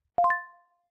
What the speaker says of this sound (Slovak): že to bol telefón, čo ma zobudil.